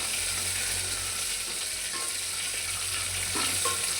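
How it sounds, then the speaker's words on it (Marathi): Steady, close sizzling of a spice tempering for dal frying in hot oil, a constant crackly hiss with faint scraping of stirring. "ते बघा किती छान फोडणी बसली आहे ना आपली"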